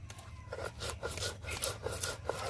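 Raw potato being ground finely into a paste on a grinding stone, steady back-and-forth rubbing strokes in an even rhythm, close and moderately loud, no voices.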